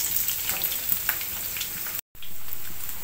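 Onions with green chillies frying in hot oil with turmeric and salt, a steady dense sizzle throughout, close and loud, with a brief drop to silence near the end before the hiss resumes, no voices.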